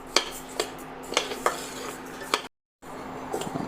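Rice roasting dry in a pan for murukku, stirred with a metal spoon that scrapes and taps the pan in regular strokes at close range, with a short drop to silence partway through.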